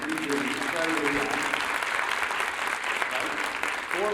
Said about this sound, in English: How about a nice big round of applause for Iona?